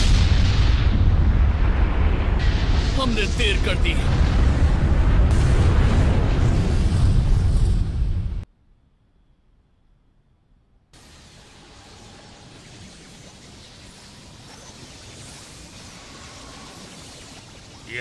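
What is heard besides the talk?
explosion sound effect in Naruto Shippuden anime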